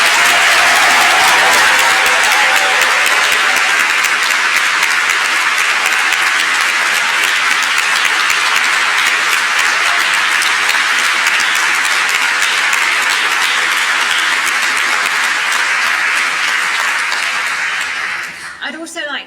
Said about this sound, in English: So let's give our graduates one final round of applause.